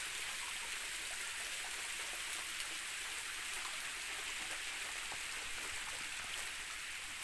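Kumba Falls, the lone waterfall in Mabini, Batangas, produces a steady, even broadband rush of falling water that holds unchanged throughout, with no voices over it.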